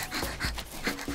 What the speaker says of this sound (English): Hey, there's another dog in here.